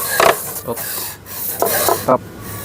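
Rough abrasive rasping of wood under a disc sander, in several short bursts separated by brief pauses, fairly close.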